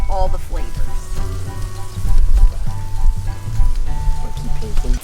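Tofu steak sizzles steadily in a hot pan while a brush paints leftover marinade onto it, a dense crackling fry with soft scraping, and a voice talks over it.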